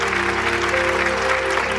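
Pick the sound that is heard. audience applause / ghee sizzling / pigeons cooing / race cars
audience applause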